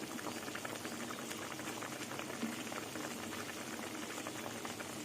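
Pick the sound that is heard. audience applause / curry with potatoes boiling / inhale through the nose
curry with potatoes boiling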